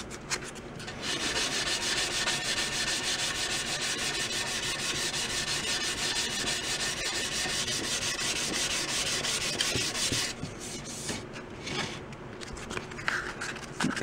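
Sandpaper rubbing a 1936-8 Slingerland Artist model snare drum's wood shell, a steady close scratchy rasp held for about ten seconds, then lighter intermittent strokes.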